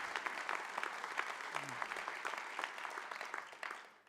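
An audience at a state of the city address applauds, producing steady, fairly faint clapping from a crowd that continues evenly and then drops away at the very end.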